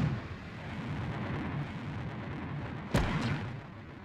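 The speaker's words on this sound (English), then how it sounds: "Expected retro rocket ignition on my mark." A Mars lander's retro rocket fires in a video game, heard as a loud, sustained roaring rumble that swells with a sudden sharp blast near the end before easing off, with no talking.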